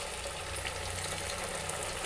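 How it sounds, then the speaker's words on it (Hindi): Methi pakoras frying in hot oil in a kadai, four at a time, producing a loud, continuous bubbling sizzle heard close with no speech. "तो चलिए इसे हम अच्छे से तेल में डाल के फ्राई करेंगे।"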